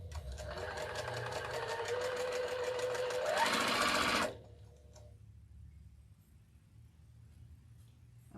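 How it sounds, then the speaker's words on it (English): Sewing machine stitching a quilt block, a fast rapid whirring rattle for about four seconds that speeds up briefly before stopping, followed by quiet room tone. "We're just going to sew our block"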